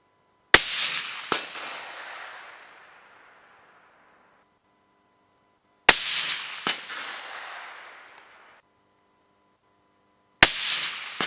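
Three sharp rifle shots fired at night at reflective targets through an ATN X-Sight day/night scope, each a loud crack followed by a quick second impact and a long fading echo, spaced several seconds apart in quiet surroundings.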